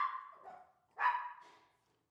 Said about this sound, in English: Dogs are barking, so I had to go get it.